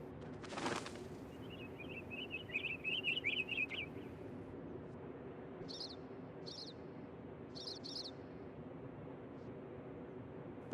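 Pine siskin, a small finch, calling in an evergreen forest: a rising buzzy trill followed by several short separate high calls, fairly faint over steady low background noise.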